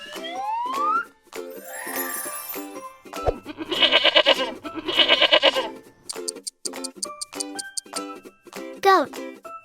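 Goat bleating in a children's farm-animal learning song, two long wavering bleats in the middle set against light cartoon music and playful sound effects.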